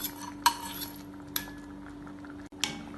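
A utensil stirs paneer into gravy in a pan, making a few sparse clinks and scrapes against the pan over a soft background hum.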